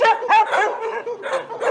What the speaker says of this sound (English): Check out our barks